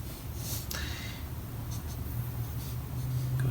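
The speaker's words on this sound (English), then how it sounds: "let's do a little sketch" A pencil makes a quick sketch of a head from observation, with soft steady scratching on paper close by over a low constant hum.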